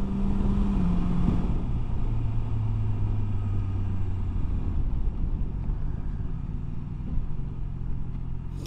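BMW S1000XR motorcycle with a quick shifter, its engine droning steadily at a low pitch while riding on the road, with constant wind rush and no talking.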